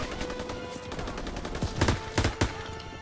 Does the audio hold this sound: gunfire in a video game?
yes